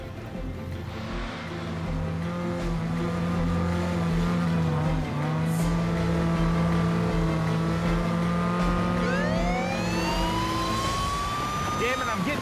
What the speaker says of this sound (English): Driving a red Ferrari on the road to Dubai.